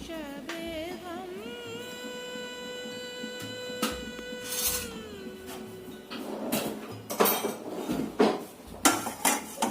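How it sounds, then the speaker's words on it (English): A spoon stirring condensed milk in a metal pot, scraping and clinking against the sides and bottom in irregular strokes that grow louder and busier toward the end, with a sustained tonal hum beneath. "Just give it a good stir because condensed milk gets stuck in the bottom."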